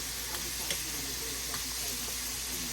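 Fish with rice and broccoli sizzling steadily in a skillet, a soft continuous fry with a few faint stirring clicks and no talking.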